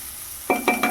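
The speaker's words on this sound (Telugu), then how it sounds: "చక్కగా ఇవి బ్రౌన్ కలర్ వచ్చేంత వరకు ఆ టమాటో ముక్కలు కూడా మగ్గిపోయేంత వరకు ఇలా వేయించుకుందామండి" Okra and tomato pieces frying in a pan for a yogurt okra curry, quiet at first, then a few close scraping stirs over a soft sizzle.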